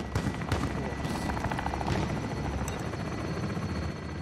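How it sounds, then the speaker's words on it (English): Attack helicopter in a modern warfare video game thunders close and loud throughout, steady rotor chop with a continuous engine whine, with brief speech underneath. "Oh, an attack helicopter."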